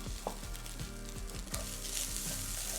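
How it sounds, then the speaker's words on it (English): Steady, close sizzling of sausage frying in a hot cast iron skillet, crackling continuously, with faint scraping and clinking of a utensil. "So to the skillet, I'm gonna add my sausage. Don't you just love that sizzle?"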